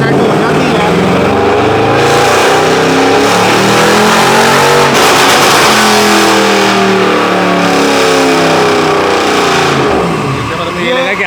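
A tuned car's engine revs hard and continuously in gear at a motorsport tuning garage, loud and close, with pitch rising and falling through the run and no pauses.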